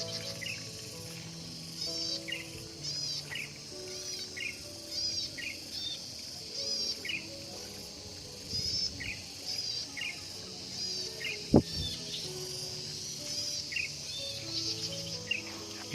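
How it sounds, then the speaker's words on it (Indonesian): Birds sing repeated high chirping phrases over a steady chorus of crickets in Ubud, Bali, fairly faint and outdoors, with one sharp knock partway through. "Dengarkan suara burung."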